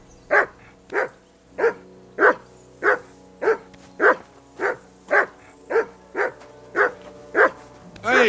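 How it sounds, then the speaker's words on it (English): A dog in the medieval video game Kingdom Come Deliverance 2 barks loudly and close in a long, evenly spaced run of about thirteen single woofs, each roughly half a second apart. "Stop barking!"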